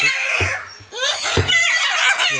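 An angry blue macaw shrieking inside a nest box, loud, harsh, close screeches in several bursts, separated by brief pauses and low thumps.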